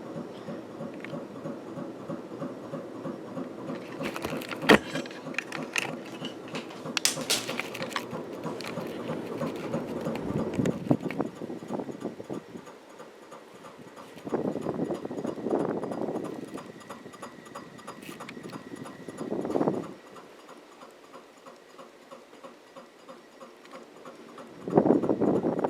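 A Moroccan Sand Casablanca Panama ceiling fan, with a flywheel problem, runs close by with a rhythmic clicking, clip-clop-like knock and a soft whir. The sound fades in and out, with quieter stretches and occasional louder bursts.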